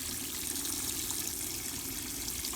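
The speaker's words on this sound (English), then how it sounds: "and you add more water" Water pours steadily into a slow-release compost watering bucket in a garden, a continuous soft splashing rush, fairly faint and uninterrupted.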